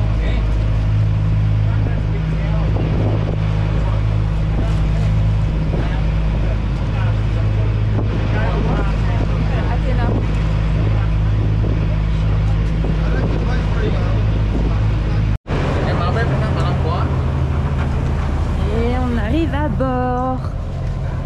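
A boat engine drones steadily on Ha Long Bay, a low constant rumble mixed with wind buffeting the microphone and people talking nearby, broken by one brief dropout.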